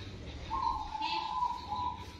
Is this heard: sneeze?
no